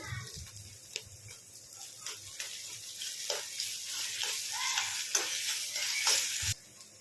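Ginger garlic paste frying with onions in a pan gives a steady, close sizzle with occasional soft scrapes, then cuts off abruptly near the end.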